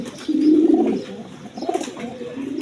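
Afsan giriziyal pigeons, a breeding pair with eggs, coo in a series of low, rolling calls close by, swelling and fading with a short lull in the middle.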